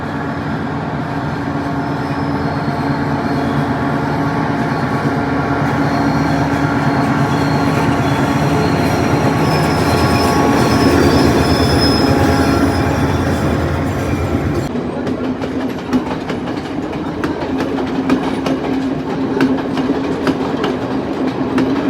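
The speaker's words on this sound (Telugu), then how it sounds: "ఈ టన్నెల్ మీద నుంచి 9 ఆర్చ్ బ్రిడ్జ్ మీదుగా ట్రైన్ అయితే వెళ్ళబోతుందండి" A train crosses the Nine Arches Bridge in Sri Lanka's green hill country, a loud, continuous rolling rumble with rhythmic clickety-clack of wagon wheels that shifts in tone midway as it passes.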